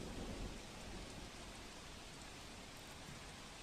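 Steady, dense heavy rain hisses continuously over farm fields in Gondal, Rajkot, faint and distant, with a low rumble underneath.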